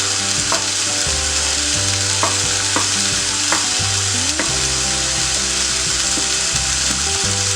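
Shredded chapathi with two eggs stir-fried in a pan for kothu chapathi, a steady close sizzle with rhythmic spatula scrapes and knocks against the pan.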